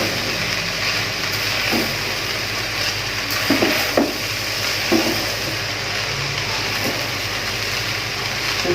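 Chicken vegetable fried rice sizzling in a pan while being stirred, a steady frying hiss with occasional scrapes and clinks of the spatula, close and continuous without speech.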